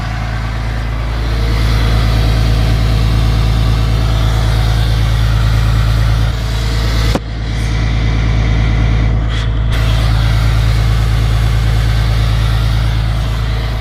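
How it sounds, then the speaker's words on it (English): An emissions-deleted 2013 Ram 3500 running at high idle with its exhaust brake off, giving a loud, continuous low-pitched drone close to the tailpipe, with a couple of brief dips in level and no talking. "So here's high idle with the exhaust brake off"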